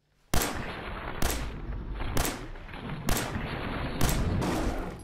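Five sharp 10mm pistol shots from the Fallout 4 video game ring out at roughly one-second intervals, each loud crack trailing into echo, with no talking.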